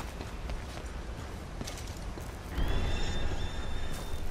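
A horse in Red Dead Redemption 2, a loud whinny rising suddenly partway through over a backdrop of hooves and rough game noise, with no talking.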